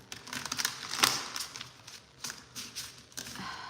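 A deck of tarot cards shuffled by hand, quick irregular papery riffles and taps close by, with a crisp louder snap partway through and no voices.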